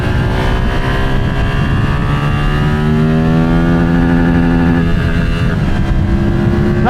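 A Yamaha MT-07 with the Y-AMT automated gearbox is ridden under a loud, close engine note whose pitch climbs steadily through the revs and then drops at a gear change before rising again.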